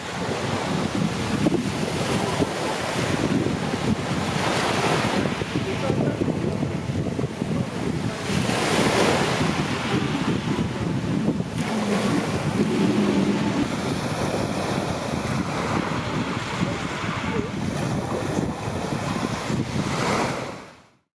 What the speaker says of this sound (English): The sea is very good, beautiful, clean, salty, smelling delicious, almost always with light waves,